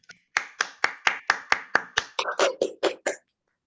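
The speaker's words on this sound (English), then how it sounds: "Okay, clap." A small group in a presentation skills class clapping together on cue: about a dozen crisp, evenly spaced claps, close and clear, with the rhythm loosening slightly toward the end.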